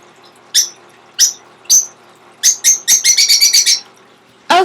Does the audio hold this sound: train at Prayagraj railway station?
no